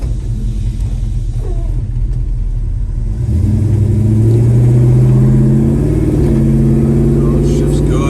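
A 1965 Chevrolet Chevelle engine rumbles while driving, its tone rising and dropping as the transmission shifts through gears, loud and close with a steady road rumble underneath; people talk briefly over it.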